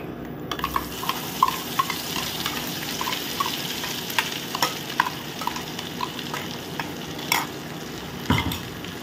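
Ground onion paste and Kashmiri chilli for an onion chutney stirred in a hot pan, a steady sizzle broken by repeated spoon scrapes and knocks, close and fairly loud with no talking.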